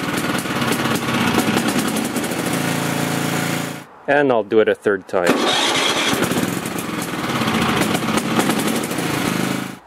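A lawn tractor engine runs loudly, stops, and then someone speaks briefly before the engine cranks and fires back up with jump-starter assistance, running steadily again afterward.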